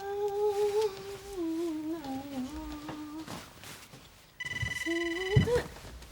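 A telephone rings in an indoor drama scene, sounding a run of warbling electronic ring tones and then a brighter, denser ring near the end, fairly close and with no talking.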